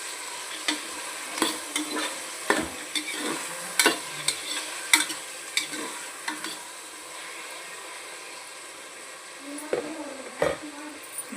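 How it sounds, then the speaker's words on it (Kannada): Vegetables and tomato frying in oil in a pan for pulao, a steady sizzle broken by repeated scraping stirs of a spoon, close and fairly loud with no talking. "ತರಕಾರಿಗಳು ಸ್ವಲ್ಪ ಚೆನ್ನಾಗಿ ಎಣ್ಣೆಲಿ ಫ್ರೈ ಆಗಲಿ"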